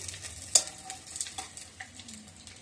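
Vadas, lentil fritters, fry in hot oil with a soft, steady sizzle and crackle, with one sharp clink near the start and a few faint scrapes, close and quiet.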